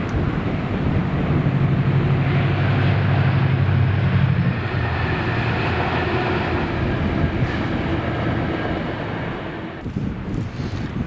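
A heavy freight train led by locomotives 68034 and 68018 rumbles past close by in Scotland, its loud roar holding steady before easing off toward the end, with wind buffeting the microphone.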